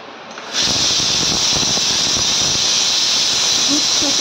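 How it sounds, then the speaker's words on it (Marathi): Kitchen mixer grinding soaked basmati rice, a steady high whirring hiss that starts abruptly and runs continuously, close and fairly loud. "ते आपण मिक्सरमधनं थोडेसे बारीक हलकेसे करून घेणार आहोत."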